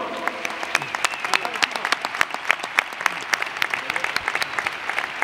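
Stadium crowd at Mestalla applauding during a presentation ceremony for a legends match, a steady clatter of many claps with sharp individual hand strikes standing out, sustained throughout with a faint murmur underneath.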